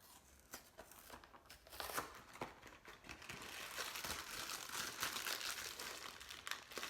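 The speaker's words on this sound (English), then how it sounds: "So we got our cake mix here. I'm gonna open that up." Cake mix bag being opened for an apple dump cake, with close plastic crinkling and rustling that grows busier and fuller toward the end, no talking.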